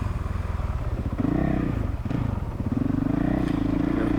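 Honda CRF450L motorcycle engine running steadily close by, a throbbing idle that climbs and wavers as the throttle is blipped, with a brief clattery dip midway, no talking.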